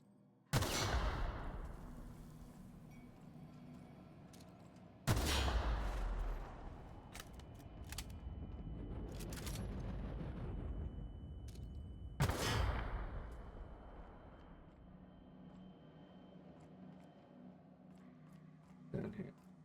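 Automatic rifle fire in The Outer Worlds video game, three sharp loud blasts that ring out and decay slowly, spaced several seconds apart, with sparse clicks and quieter game ambience between.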